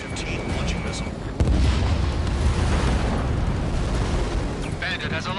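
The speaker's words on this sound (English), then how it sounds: "Spare 15, launching missile." Ace Combat 7 jet combat with a missile launch and explosions, a sudden heavy boom that gives way to a sustained loud roaring rumble, under a faint radio-style voice at the start and end.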